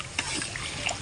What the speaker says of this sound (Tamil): 18 கிளாஸ் ஊற்றிட்டு 3 கிலோ அரிசிக்கு 18 கிளாஸ் தண்ணி.